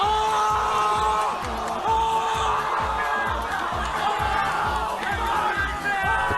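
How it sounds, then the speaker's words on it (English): A crowd at a Super Smash Bros. Melee tournament erupts in loud, sustained cheering, whooping and shouting, with music thumping underneath throughout. "The crowd erupts into a frenzy and swarms Albert, while Hungrybox quietly slips away"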